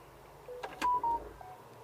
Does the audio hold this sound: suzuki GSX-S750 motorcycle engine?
no